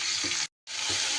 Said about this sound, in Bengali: ঝিঙেগুলো দিয়ে আমি ভালো করে ঘিয়ের মধ্যে একটু নাড়াচাড়া করে নেব।